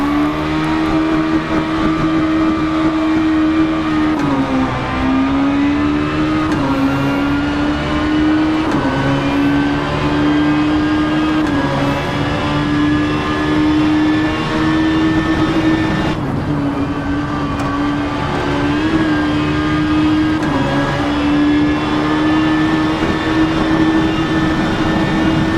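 A Peugeot 306 Kit Car rally engine racing on tarmac in the Richard Burns Rally video game drones loudly and steadily, with revs rising and dipping through gear changes and braking, the car's engine sound alone throughout.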